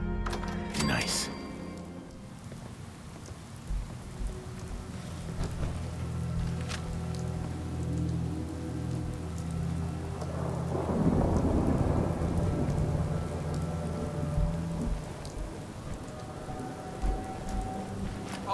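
Rain patters continuously in Fallout 4 while thunder rolls in, with a sharp crack at the start and a deeper rumble swelling midway, moderately loud over the steady downpour.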